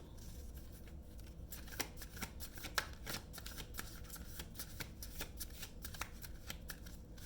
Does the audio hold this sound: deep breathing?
no